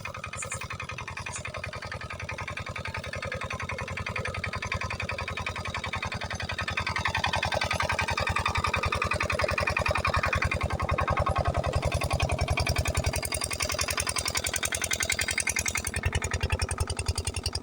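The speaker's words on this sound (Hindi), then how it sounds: "इधर इंजन चल रहा है" An engine runs at a steady idle with a fast, even mechanical pulse, fairly faint and continuous, swelling slightly partway through under a light outdoor background.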